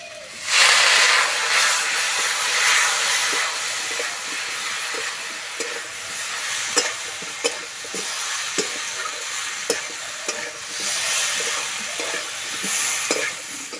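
Water poured onto ground spices frying in a pan for a long bean, potato and mung dal curry, first a loud hissing burst, then a steady sizzle broken by sharp spatters and stirring scrapes, close, no talk.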